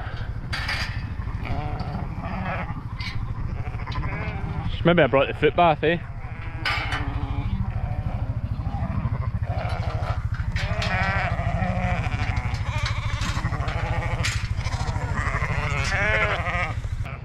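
Sheep bleat repeatedly nearby amid a steady rumble and clatter, with a person speaking briefly over the flock.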